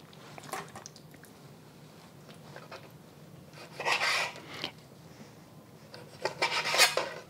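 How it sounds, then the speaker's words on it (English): Knife cutting chicken thighs into pieces on a board in a home kitchen, with a few faint scraping slices and soft squelchy cuts in scattered bursts over a quiet background. "I'm gonna cut them up into smaller pieces so that it cooks a little bit faster in the pot."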